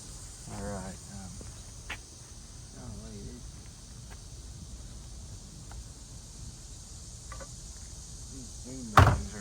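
Insects chirp outdoors on a very hot day near a Toro Recycler Max lawn mower being set up, steady faint trills with a few bursts and a knock near the end.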